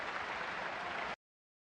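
Snooker spectators at the Shanghai Masters semi-final applaud a player in a steady, even wash of clapping for about a second before it cuts off abruptly to silence.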